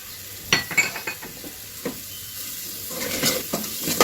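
Spices including turmeric and salt frying in a little oil for a duck and potato curry, a close sizzle under several sharp utensil scrapes and clinks against the pan, stirring picking up near the end, with no talking.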